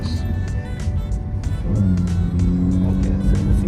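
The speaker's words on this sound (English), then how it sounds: "I'm double tapping the edge to get the engine back on" Car engine restarting after electric-only mode, a low rumble rising into a steady hum as it comes back on, with faint interior noise around it.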